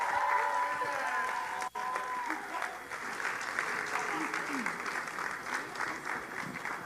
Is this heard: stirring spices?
no